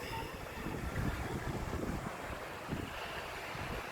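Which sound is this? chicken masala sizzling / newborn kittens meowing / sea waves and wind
sea waves and wind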